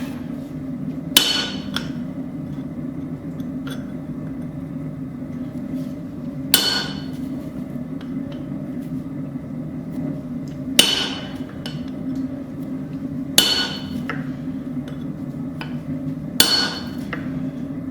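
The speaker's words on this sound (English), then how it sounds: "Now see if we can't get an eye punched in here." Hammer blows driving a punch into hot steel to form the eye of a small cross peen hammer on an anvil, five sharp ringing metallic strikes spaced several seconds apart over a low steady hum.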